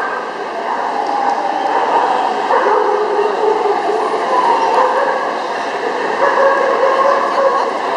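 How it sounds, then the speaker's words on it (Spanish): Czechoslovakian Wolfdogs bark and yip among a steady hum of hall noise at a spring dog show in Madrid, during the breeding-group judging. "tercer grupo de cría de Perro Lobo Checoslovaco"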